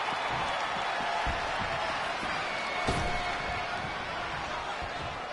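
Phoenix arena crowd roaring in a PS4 wrestling game, a steady, loud wall of cheering and clapping with one sharp impact partway through.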